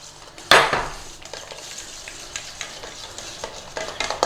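A spoon clatters in sharply, then stirs salad cream into a potato salad with soft, close scraping and light clicks against the bowl that continue steadily to the end.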